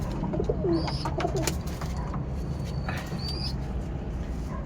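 Tippler pigeons cooing close by, a few soft low calls over a steady background hum, with faint chirps from other birds.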